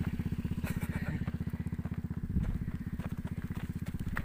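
A motorcycle climbs a steep mountain trail in Mindoro, its engine a steady, rapid low chugging heard close and continuous, with faint voices now and then.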